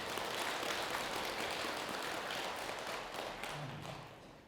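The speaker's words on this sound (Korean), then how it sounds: "큰 박수 한번 치시죠." Applause from a congregation at a Buddhist dharma talk ceremony, a steady dense wash of clapping filling the room for several seconds before tapering slightly at the end.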